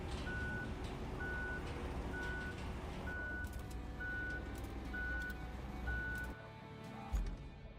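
A truck backs up in the video game RoadCraft, giving a steady series of evenly spaced reversing beeps over the rumble of its engine. The beeps stop shortly before the end, and the engine drone carries on.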